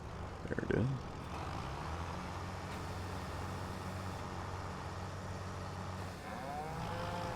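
Cattle low and moo in the Farming Simulator 25 video game, with a deep lowing call near the start over a steady rumble of vehicle engine noise that continues throughout.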